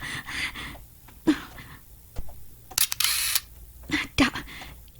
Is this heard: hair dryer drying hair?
no